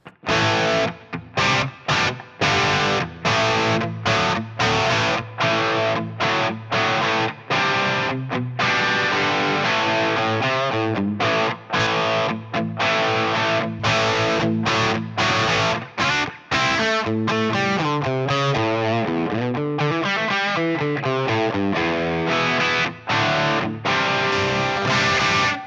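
Heavily distorted electric guitar through a Line 6 Helix amp model plays chugging rhythmic chords and riffs, loud and continuous, with brief choppy gaps between strums.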